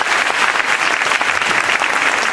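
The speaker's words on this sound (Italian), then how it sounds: "vi diamo il benvenuto con un grande applauso a tutti" An audience claps loudly and steadily in a dense wash of applause at a family festival event, with no talking over it.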